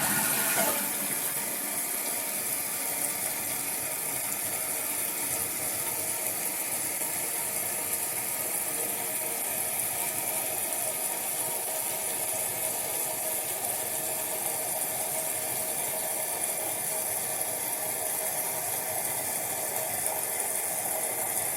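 A toilet refilling after a new flapper was fitted on its flush valve, a steady wash of running water and faint mechanical ticking that stays even and unbroken for the whole stretch, with no voices.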